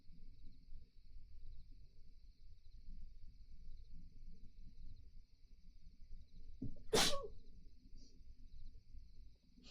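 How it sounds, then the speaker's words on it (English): A single sharp sneeze bursts out loud and close against a quiet room tone and a faint steady high hum. There is no talk around it. "Hold on, I gotta sneeze."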